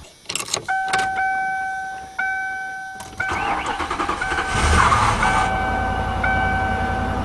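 A 1997 Lincoln Continental with one misfiring cylinder cold starts, the starter cranking in short bursts before the engine catches and settles into a rough idle with a pulsing miss, close and loud, with a steady chime over it.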